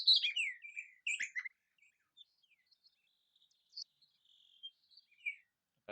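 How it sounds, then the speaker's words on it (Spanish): Small bird chirping in short, high calls, a dense burst at the start, then sparse faint tweets scattered through the quiet. "Pajarito."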